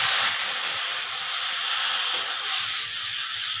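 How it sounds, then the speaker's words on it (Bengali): Water poured into a hot pan of frying spiced vegetables with taro and prawn hisses and sizzles in a steady, loud broadband wash, close and continuous with no talk over it. "এখানে অল্প জল দিয়ে দেব।"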